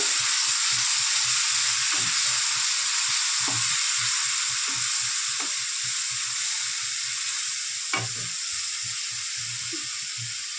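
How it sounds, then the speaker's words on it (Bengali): Onion paste sizzling and frying steadily in hot oil in a pan, a continuous close hiss with a few occasional stirring clicks, no talk. "পেঁয়াজ বাটাটা দিয়ে দিলাম ভালো করে ভেজে নেব"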